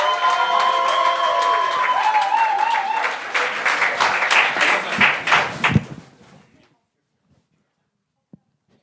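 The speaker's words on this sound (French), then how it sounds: "Mesdames et messieurs, un tonnerre d'applaudissements pour 50 nuances de malaise!" Audience applause and cheering for a comedy act at a live comedy show, a loud dense crowd of clapping with whoops for about six seconds that then fades out to near silence, with a single faint clap near the end.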